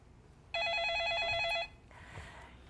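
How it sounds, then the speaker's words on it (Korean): A telephone rings with an incoming call to a live stock-market advice programme, giving one bright, electronic trill burst about a second long, close and clear, followed by a faint click and quiet room tone. "먼저 걸려온 전화부터 받아볼까요?"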